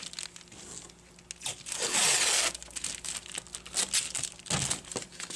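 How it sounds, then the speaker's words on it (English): Tape being torn from a roll while Reflectix insulation is installed, with a sharp ripping burst amid close crinkling and rustling of the foil material. "you're going to want to tear your tape"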